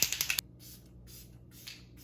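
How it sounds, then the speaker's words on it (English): Makeup setting spray is pumped as a fine mist: a short burst of rapid clicky spritzes, then three soft hissing sprays spaced apart, close and fairly quiet. "It's a pretty fine spray."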